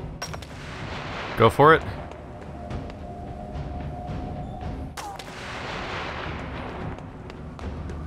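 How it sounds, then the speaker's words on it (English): Gunfire from a shooter in This War of Mine cracks out as a few sharp, fairly distant shots over a steady background hum, with a brief spoken line from a person heard in between. "I can hear him shooting"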